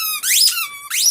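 Pet dog at play, two sharp high squeaks, each sweeping upward in pitch, close and fairly loud with a short gap between, nothing else audible.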